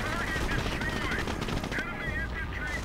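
Game gunfire from Company of Heroes, a World War II strategy battle with Wehrmacht forces, crackles as steady machine-gun bursts and scattered shots throughout, dense and continuous with mid-level loudness.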